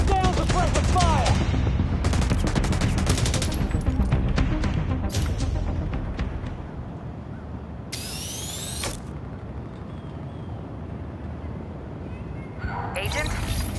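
Sustained suppressive gunfire in The Division Resurgence video game, with dense bursts of shots up front, then a quieter stretch with sharp effects and a few more bursts, while voices talk over it.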